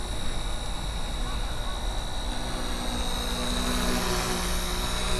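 Small K100 radio-controlled helicopter running near full throttle and spinning, a steady high whine and buzz of rotors and motor that stays close and constant throughout.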